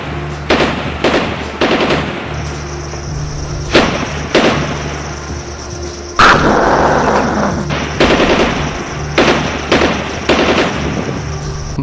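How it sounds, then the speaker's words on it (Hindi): Gunfire along the Line of Control between India and Pakistan in a news report: loud, sharp bursts and single cracks spaced irregularly over a low rumbling background. "लाइन ऑफ कंट्रोल पर एक बार फिर भारत ने फायरिंग कर दी"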